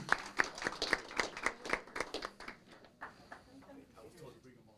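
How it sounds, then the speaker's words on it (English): Brisk clapping from a crowd at a city council meeting, a steady patter of hands that gradually thins and fades out, with voices talking over it. "give them a big Moreno Valley round of applause"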